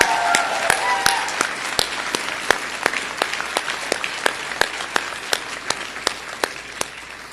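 Audience applause at a physician assistant studies white coat ceremony, a steady crowd wash punctuated by sharp individual claps, with a brief voice near the start.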